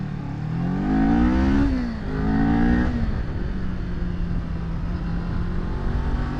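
A Kawasaki Ninja 400 KRT sport motorcycle engine revs up twice in quick succession, pitch climbing and dropping each time, then settles into a loud, steady idle close by, with no voices present.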